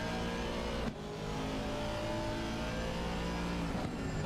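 A race car engine in Assetto Corsa Competizione at Donington drones steadily at high revs, with a brief dip where traction control cuts the power before it picks up and keeps roaring.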